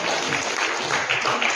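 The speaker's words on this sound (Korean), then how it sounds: "박수도 많이 나오겠습니다" An audience claps and applauds at a parliamentary forum on revising the Yeosu-Suncheon incident law, a brief steady burst of applause filling the room.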